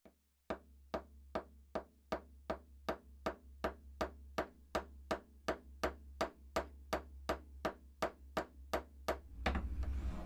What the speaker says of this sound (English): so that way I am hammering the right side of the wire